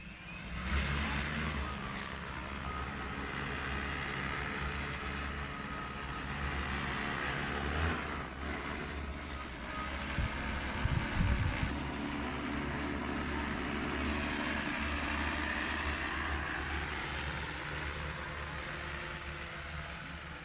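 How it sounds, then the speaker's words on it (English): A Joyance Tech agricultural sprayer drone flies back toward its resume point mid-spraying job, its rotors giving a steady, broadband whirring drone that holds at an even level throughout, with no talk. "the drone is coming back to the break point in order to continue the spraying operation"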